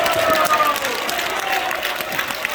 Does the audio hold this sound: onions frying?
no